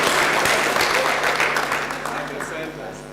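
An audience applauds at a launch ceremony for an African centre of excellence for non-communicable diseases, steady clapping from a crowd that tapers off over a few seconds.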